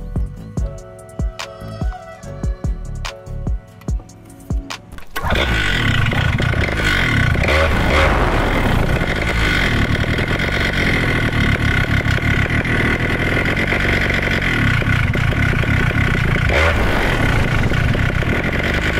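After a few seconds of sharp clicks and knocks, a Vittorazi Moster 185 two-stroke paramotor engine starts up and runs loudly and steadily, a buzzing drone with slight fluctuations during low-speed needle adjustment.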